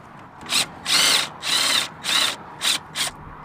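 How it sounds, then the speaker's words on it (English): A power tool run on an alternator bolt of an Infiniti G20 with an SR20 engine, fired in six short whirring bursts with brief pauses between, close and loud, no talking. "So we'll do that right now with the impact."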